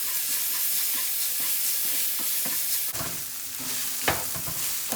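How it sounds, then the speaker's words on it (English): Garlic sizzles in a hot pan on the stove for beef enchiladas, a steady close frying hiss that jumps louder partway through, with a few sharp crackles and pops. "we are now gonna add some garlic to cook down with it"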